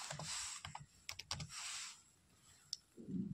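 Typing on a laptop keyboard, close and quiet: quick bursts of clicking keystrokes in an irregular rhythm, with short pauses between the bursts.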